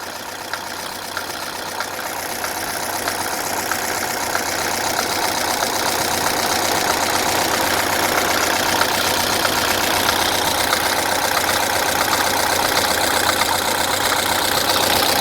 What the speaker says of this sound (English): I like how this engine sounds.